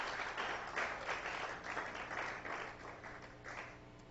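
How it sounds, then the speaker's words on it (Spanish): A church congregation applauding during worship: faint, distant clapping that swells and ebbs in waves, heard alone without voices. "Gloria a Dios, apláudale."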